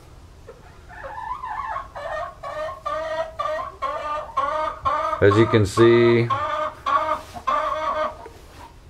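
Hens cluck noisily and repeatedly at close range, with a louder squawk in the middle, while a person speaks briefly over them.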